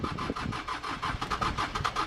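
A 1983 Ford Ranger with a 2.2L Perkins diesel engine cranks and fires into a rough, clattering run, its uneven pulses close and moderately loud, with the truck's fuel-in-the-coolant fault noted.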